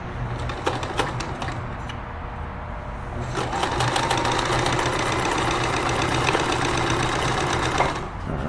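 A Necchi 525FA sewing machine runs a straight stitch, its rapid mechanical needle chatter steady and close, growing a little louder and busier partway through before stopping near the end.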